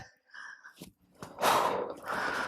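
Loud, hard breaths, a few sharp exhales and gasping inhales close to the mic, building into a long, heavy rush of air.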